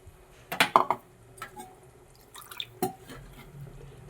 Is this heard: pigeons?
no